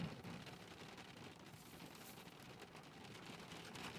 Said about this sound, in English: Now this wonderful bit of rain started while I was on the way home.